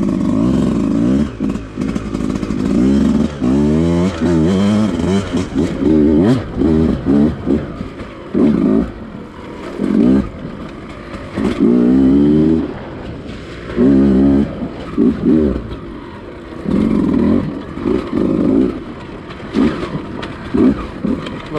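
A Beta 200 RR two-stroke dirt bike rides flowy trails, its engine revving up and dropping off in repeated bursts, loud and close, with clattering over rough ground.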